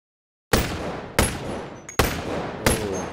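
Four sharp, loud gunshots ring out about half a second to a second apart from a pistol in the VR game Boneworks, each with a short decaying tail and no talking.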